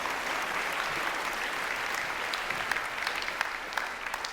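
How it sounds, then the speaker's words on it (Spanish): A church congregation applauding during a sermon, a dense, steady patter of many hands clapping at moderate volume, unbroken for the whole stretch with a few sharper claps near the end. "dile un aplauso al Señor"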